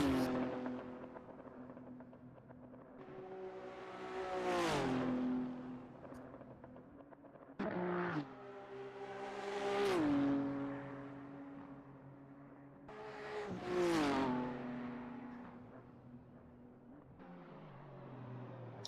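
Racing BMW and Nissan GT-R circuit cars in an endurance race pass by one after another, engines rising to a loud howl with gear shifts and fading away, repeating three times.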